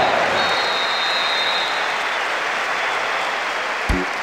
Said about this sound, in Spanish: Ahora todos a levantarse, ovación para este muchacho.